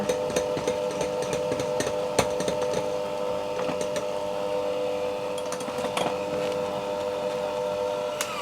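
An electric hand mixer runs at low speed through keto garlic, ham and cheese muffin batter, giving a steady close motor whine with scattered clicks and knocks from the beaters against the bowl.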